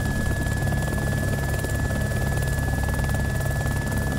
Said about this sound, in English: Where's that other helicopter?